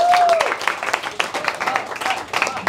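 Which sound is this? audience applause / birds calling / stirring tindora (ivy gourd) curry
audience applause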